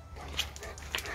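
An Alaskan Malamute at bath time gives two short, high yips over a quiet room background, with a whimpering tone and a pause between the calls.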